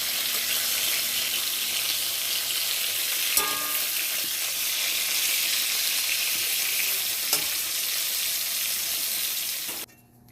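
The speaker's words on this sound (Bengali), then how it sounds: "সর্ষে শুকনো লঙ্কা আর তেজপাতা ফোড়নে দিয়েছি" Mustard seeds, dry red chilli and bay leaf sizzle in hot oil for a home-cooked tempering, a loud, steady crackling hiss with a few sharp pops and clinks, lasting nearly ten seconds before cutting off abruptly.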